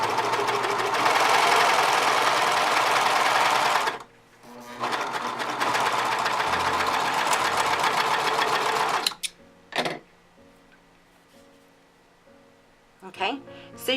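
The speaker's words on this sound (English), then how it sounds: "we're going to go ahead and do a test stitch" A serger, model 1034D, runs a test stitch on stretch fabric with a loud, steady buzzing whir for about four seconds. After a short pause it runs again for about five seconds, then the motor stops and a few quieter clicks and handling sounds follow.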